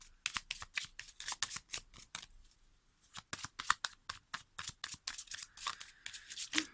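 A deck of tarot cards is shuffled in quick bursts of riffling flicks, close and soft, with a short pause midway and no speech.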